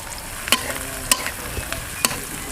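Bottle gourd leaves being stir-fried in a pan, with faint steady sizzling under a few sharp clicks of a spatula scraping and tapping the pan at a slow, irregular rhythm, close by with no talk.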